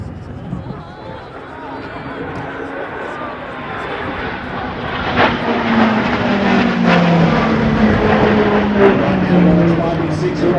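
A RAAF CT-4 propeller trainer flies a Roulettes aerobatic loop, its engine droning and rising in pitch and volume as it climbs. A commentator talks over the aircraft noise throughout.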